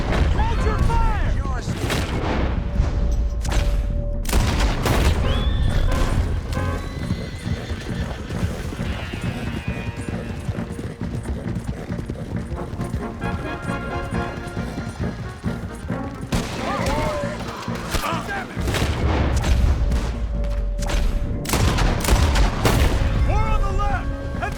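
Gunfire in Red Dead Redemption 2, scattered shots and booms mixed with neighing horses and clip-clopping hooves, under frantic shouting voices during a chaotic battle.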